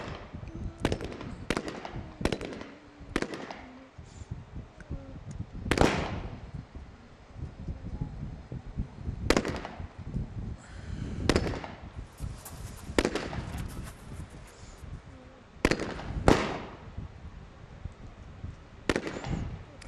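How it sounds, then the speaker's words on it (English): Sharp, loud sniper rifle shots crack out at irregular intervals during a SWAT shooting competition, each report a sudden bang fading quickly, heard fairly near over quiet outdoor background. "Now it's the kneeling and then standing for the sniper."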